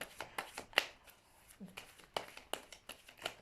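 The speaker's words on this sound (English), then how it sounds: "I'll just give you another little shuffle." Tarot cards are shuffled up close, a quick run of crisp riffles and soft slaps in an irregular rhythm.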